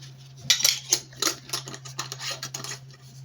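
A spoon scoops ground cardamom, giving a quick run of small metallic clinks and scrapes against a container. The sounds are close and fairly light, spread over a few seconds above a low steady hum, with no voices.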